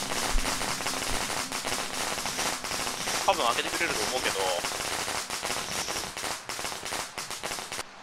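Firecrackers crackle in the horror video game Shadow Corridor, a loud, dense string of rapid pops that runs continuously for several seconds, with a voice talking briefly over it.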